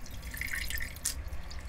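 Water runs from a tap into a pot for boiling taro stems with fresh shrimp, a steady close splashing and trickle lasting under two seconds with no talk.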